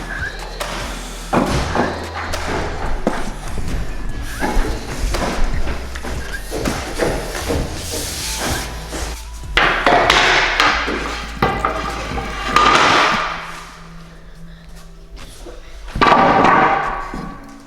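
White oak hardwood flooring boards are tapped into place in a post frame home, with repeated close knocks and thuds in uneven bursts, some louder blows standing out among lighter taps.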